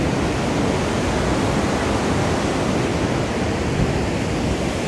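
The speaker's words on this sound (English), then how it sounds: "Can you guys hear that? It's the water." Steady rushing water fills the whole stretch, a broad constant roar like a nearby stream or falls, with no voices.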